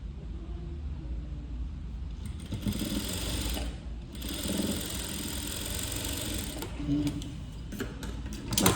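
A sewing machine stitching a puff sleeve runs in a steady, close mechanical whir with rapid needle ticking, pausing briefly near the middle before resuming.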